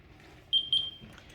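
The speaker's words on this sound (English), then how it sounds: "That's our timer." A kitchen timer goes off while apricot jam is being made, sounding two short, shrill electronic beeps in quick succession over faint room noise.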